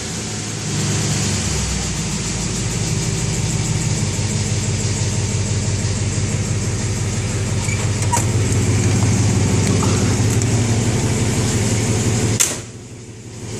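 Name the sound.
1966 Plymouth Sport Fury engine idling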